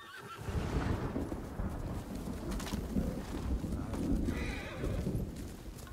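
A horse in the video game Ghost of Tsushima runs up with continuous hoofbeats and snorting, and a brief whinny comes through over outdoor ambience with faint bird calls.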